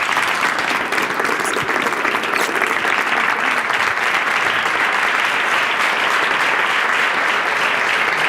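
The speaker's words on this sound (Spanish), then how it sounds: "quiero pedir para ti un fuerte aplauso" Sustained applause from an audience after a talk on teaching, a steady dense wash of clapping that holds evenly from start to finish with no speech over it.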